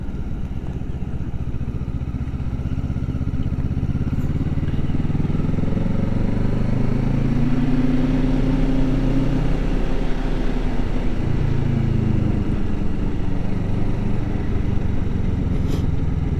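A motorcycle rides steadily in second gear through a corner, with a continuous near engine drone that rises and falls slightly in pitch, and wind noise underneath.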